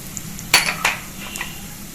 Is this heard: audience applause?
no